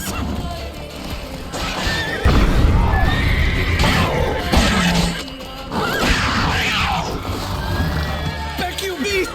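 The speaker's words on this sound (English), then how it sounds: "¡Está atacando el caballo!" A horse in The Witcher 3 neighs and whinnies repeatedly while attacking, loud and close, among hoof clatter, crashing impacts and voices talking over the fight.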